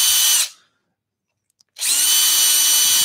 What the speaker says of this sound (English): the other reason, of course, that I want to use a pillar drill is because it's upright